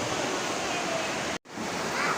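Steady broadband rush of a river flowing at Baler, Aurora, loud and close throughout, with a brief dropout near the middle.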